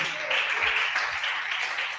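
A church congregation applauds together during a worship service, a steady wash of clapping at moderate volume with a few louder claps near the start and middle.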